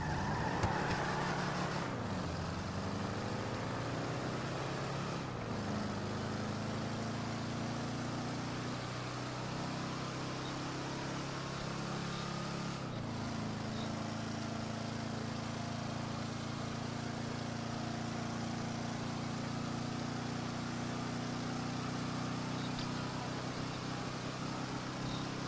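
Two customized cars, a Vapid Clique and an Albany Hermes, racing in GTA 5 Online, with a steady engine drone whose pitch climbs and shifts through gear changes for a long stretch and no talk over it.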